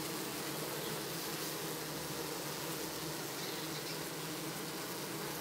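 Honey bees crowding to feed on honey, recorded up close: a continuous, even buzzing drone of many wings with no breaks and no voices.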